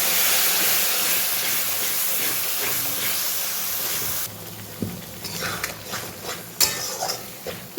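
Spice paste for a chicken and potato kosha hisses and sizzles loudly in a pan once water goes in, a dense steady hiss that thins after a few seconds into scattered crackles and spatters.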